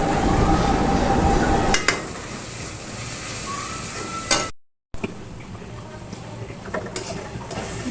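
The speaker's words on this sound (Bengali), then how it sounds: "এই পর্যায়ে আমি একটু নেড়ে নিয়ে স্বাদ মতো লবণ দিয়ে দিব" Goat liver bhuna being stirred in a frying pan, with steady scraping and a low sizzle running throughout, a few sharper clinks of the utensil against the pan, and a brief gap midway.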